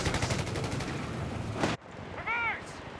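Rapid machine gun fire from a Company of Heroes 3 battle rattles loudly and steadily, then cuts off abruptly, leaving quieter battlefield noise with a short whistling tone.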